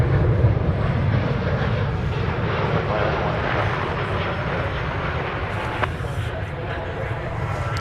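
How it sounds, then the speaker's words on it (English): American Airlines Airbus A380 arriving at Dallas Fort Worth airport from Monterey, a steady rumbling jet roar that holds evenly throughout, close and continuous, with a faint click near the end. "From Monterey comes this Airbus A380, American Airlines Flight"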